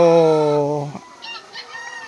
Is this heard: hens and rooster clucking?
yes